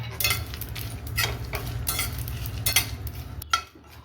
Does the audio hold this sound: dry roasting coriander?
yes